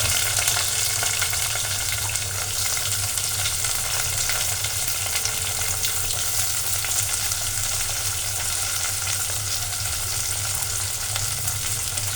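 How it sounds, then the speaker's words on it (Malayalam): Chopped onions sauté in a thick pan with a pinch of salt. A close, steady sizzle hisses throughout, and no one speaks. "നമ്മുടെ ഉള്ളി ഇട്ട് നമുക്കൊന്ന് മൂക്കി"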